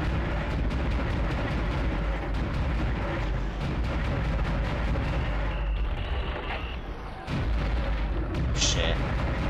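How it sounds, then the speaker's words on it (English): Weapon fire in the horror video game Dead Space, dense and loud booming shots over a continuous rumbling game soundtrack, with speech mixed in. "I'll shoot these things off."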